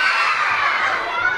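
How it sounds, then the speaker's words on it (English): Children at a summer library event in a children's department shout and scream together as a crowd, a loud, continuous burst of excited young voices with no adult speech over it. "What are you guys screaming?"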